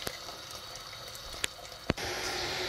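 Hot water poured while cooking kakrao with beans stew. A few sharp clicks and knocks come first, then a steady, close rush of pouring liquid starts abruptly near the end.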